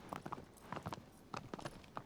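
Agro the horse from Shadow of the Colossus walks with clear, close hoof clip-clops in uneven clusters of two and three beats, alone without speech.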